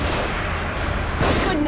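Gunfire from above in The Evil Within, a dense burst of shots over a steady noisy game backdrop, with a louder crack near the end.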